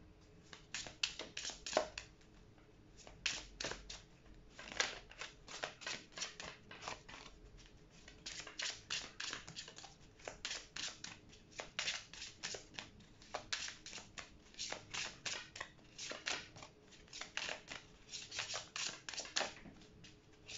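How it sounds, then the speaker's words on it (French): Tarot cards drawn and laid out one after another, a steady run of quiet, crisp card flicks and soft slaps on a table, close but faint, with no talk. "je vais encore tirer une autre carte"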